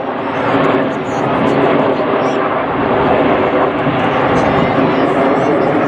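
Red Arrows display jets make a loud, continuous roar close overhead at an air show, with a voice talking over the steady rumble.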